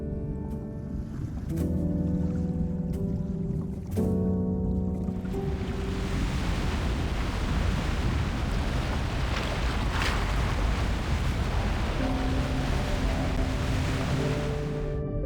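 Ocean waves wash in a video game scene, a broad, continuous rushing surf that swells up and holds under a soft musical tone, with no speech.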